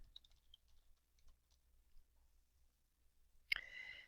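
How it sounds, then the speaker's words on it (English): Keys tapped on a computer keyboard while building a presentation slide, a few faint scattered clicks in quiet, then a louder burst near the end as the enter key is pressed. "So I'm going to hit the enter key twice and type questions."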